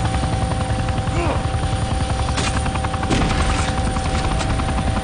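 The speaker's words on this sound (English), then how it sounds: "Get out, this is my chopper." A helicopter in the video game Vivisector thrums loud and close with a rapid steady rotor chop, joined by bursts of gunfire cracking over it.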